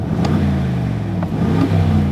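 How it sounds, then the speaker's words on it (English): Aston Martin DBX SUV exhaust in its quieter normal mode, a steady, close engine drone with a low rumbling tone that holds throughout, swelling slightly as the revs rise near the end. "Aston Martin has tuned the exhaust for a very fruity sound, though if you need to be quiet it can be, so this is normal mode."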